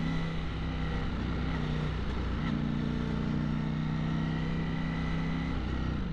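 A 2020 Ducati Streetfighter V4 motorcycle hums steadily while filtering through traffic on a Paris ring road, its engine note droning close with a brief shift in pitch partway through and surrounding road noise.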